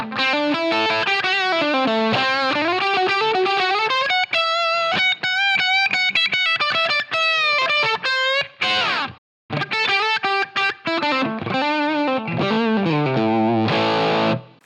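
Electric guitar played through a Line 6 Helix with heavy distortion, a continuous run of loud sustained notes and chords that drops out briefly near the end before resuming, with no talking.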